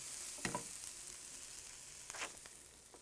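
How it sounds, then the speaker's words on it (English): Stir-fry vegetables sizzle steadily in a hot pan, a soft continuous hiss with a few light stirring scrapes and clicks, and no voices. "the thing about a stir fry is you don't really have to hurry it"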